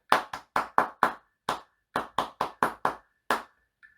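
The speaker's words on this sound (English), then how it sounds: "1, 2, 3, clap." Single hand claps, about a dozen crisp and close, beat out a rhythm pattern during a tenor trombone practice lesson, with short groups separated by brief pauses and no talking.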